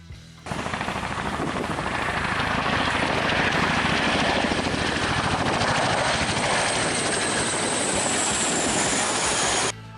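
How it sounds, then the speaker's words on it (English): Chinook helicopter flying low over water in the Netherlands while chasing a boat, a loud, dense, continuous rotor roar with fast chopping beats, steady for about nine seconds with no talk. "In the Netherlands, we encounter a unique aviation moment when a Chinook chases a boat."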